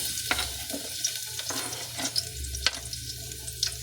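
Garlic hits hot oil in a pan while cooking batchoy, giving a soft, steady sizzle broken by scattered little crackles and pops at close range.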